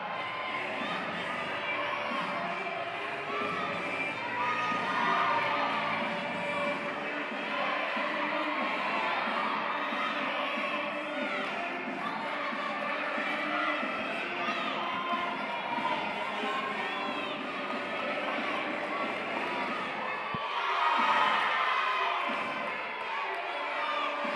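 Crowd at a college gymnastics meet with Yale, SCSU, UNH and LIU cheering and shouting continuously in an echoing arena, with swells of whoops and cheers, steady and fairly loud throughout.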